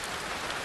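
Summer evening rain falls in Beijing, a dense, steady wash of raindrops striking surfaces close by, even and unbroken with no voices.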